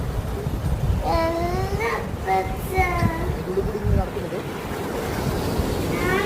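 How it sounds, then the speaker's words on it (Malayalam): Sea waves crash against the walls of Kannur fort, making a continuous rushing surge mixed with wind buffeting the microphone, while a voice is heard briefly over it. "കടലിലെ വൻകിരകൾ കോട്ടയുടെ മതിലിൽ വന്നിങ്ങനെ തട്ടുകൾ"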